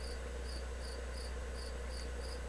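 Swamp ambience of frogs and other creatures in the Infocom game Enchanter: steady, faint high chirping pulses at an even rhythm over a constant low hum, with no voices.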